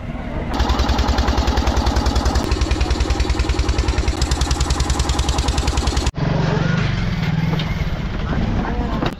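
A river-crossing boat's engine chugs in a fast, steady rhythm close by, then the sound cuts abruptly and shifts to a rougher, noisier running tone.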